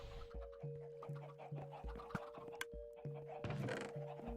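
Repeated short hen clucks from video game chickens in a steady rhythm over a faint constant hum, with a few sharper clicks and a brief busier burst late on.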